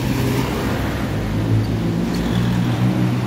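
Busy street traffic with many vehicles passing, a steady low rumble of engines and tires at moderate distance, continuous and without talk.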